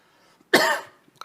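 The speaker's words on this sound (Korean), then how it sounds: "갑자기 또 기침이 나오네요" A single sharp, loud cough from a preacher during a Sunday sermon, a short harsh burst that fades quickly in a quiet room.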